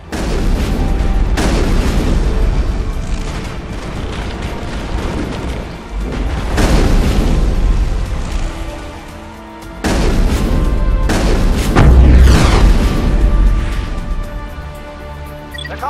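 Heavy SAT strike explosions in the Mass Effect video game, on the infiltration of Saren's base, arrive as loud booming blasts in several waves over about sixteen seconds, each one rumbling deep and fading before the next.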